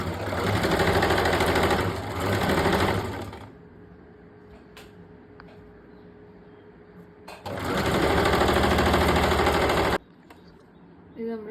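A sewing machine stitches the shoulder seam of a plain georgette shirt in two loud, fast-whirring runs of a few seconds each, separated by a quiet pause with faint clicks of fabric handling.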